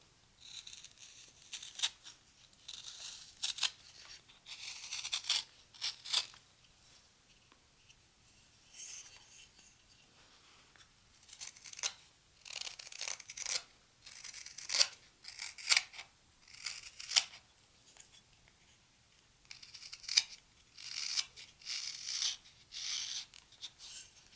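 Knife carving a small chamfer along the edge of a wooden coffee scoop, a run of short, crisp scraping strokes in irregular bursts, close and fairly quiet, with no talk.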